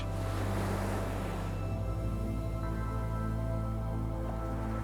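Steady ocean surf washes continuously onto a shore, a broad, close rushing roar with gentle swells and a faint wind-like hiss, heard alone without any voices.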